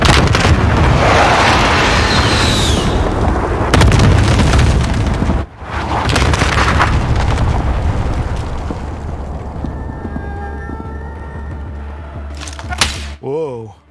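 Cluster strike in the video game Warzone: a long, heavy barrage of close, booming explosions with a brief gap midway, fading to quieter rumble and sharp bursts at the end, with voices talking throughout.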